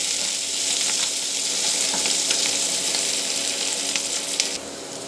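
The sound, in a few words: onion, chili and garlic frying for fried rice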